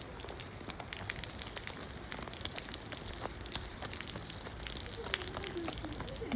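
Rain falls steadily in a constant pattering hiss with scattered drops and crackles, moderately loud and unbroken throughout.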